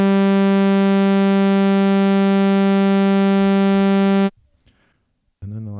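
A bright, buzzy saw wave tone from a Synthstrom Deluge FM synthesizer holds steady and loud for about four seconds, then cuts off abruptly, leaving near silence before another sound begins.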